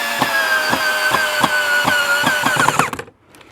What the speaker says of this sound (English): and I'm going to start drilling